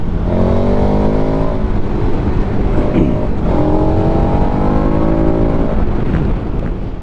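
KTM 1290 Super Adventure S motorcycle engine pulling hard on back roads, a loud, continuous rising roar that climbs through the revs, dips briefly and surges again, heard close with wind.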